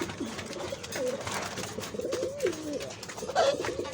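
Pigeons coo repeatedly at close range in a home loft, soft rolling calls overlapping one another in an irregular rhythm over a low background hum.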